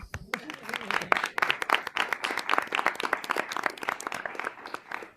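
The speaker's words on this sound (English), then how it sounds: "That deserves a round of applause." Scattered clapping from a small group at a board of education meeting, individual sharp claps clearly separable in an uneven rhythm, after a brief spoken moment at the start.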